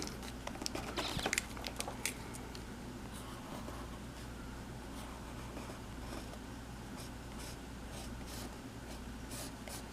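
A pencil scratches texture onto paper while drawing tropical plant vines, giving quiet, continuous close-up scribbling and rubbing strokes over a low background hum.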